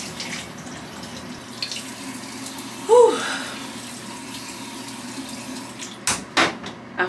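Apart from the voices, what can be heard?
shower water running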